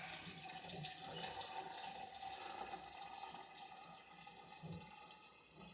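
Tap water runs steadily into a plastic tub used for making strawberry and watermelon wine, a continuous faint splashing hiss that holds throughout with no break.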